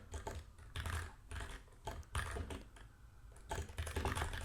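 Fingers type quickly on a computer keyboard at close range, a dense run of soft key clicks and taps arriving in uneven bursts with brief pauses.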